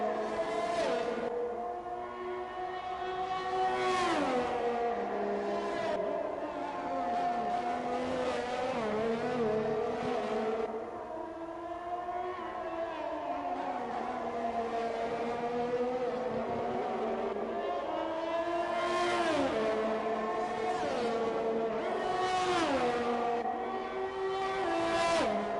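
Formula racing cars on a hot lap in a racing video game at the Azerbaijan street circuit, engines whining and rising through gear changes, continuous and fairly loud with repeated shifts.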